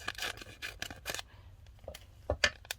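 Scissors trim acetate from stamp set packaging in a quiet room, several crisp snipping cuts close up in a quick irregular run, ending in a couple of sharper slices.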